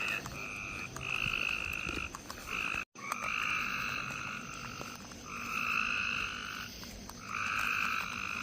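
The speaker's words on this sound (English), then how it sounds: "Man, those frogs are noisy." Loud, dense chorus of frogs croaking in long pulsing trills that overlap and swell, with a brief break partway through, near a large parking lot in Danville.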